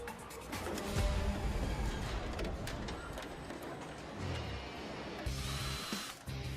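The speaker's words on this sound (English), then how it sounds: "This team makes using a drill look like spreading butter." Power drill work on Jaguar XJ car doors in a factory assembly line, whirring bursts and buzzing against a busy, clattering industrial background with steady machinery noise.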